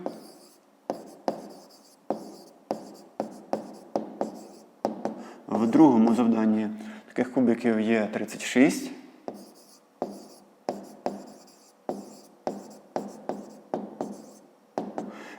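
Pen or chalk writing out an answer by hand in a fifth-grade maths exercise on cubes in a rectangular box: repeated short, crisp strokes in steady rhythm, close and clear, broken in the middle by a stretch of speech.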